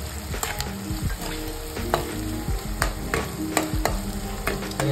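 Chopped onion fries in oil for an aloo methi sabji, a constant close sizzle broken by repeated scraping strokes of a spoon stirring the pan, with no voices.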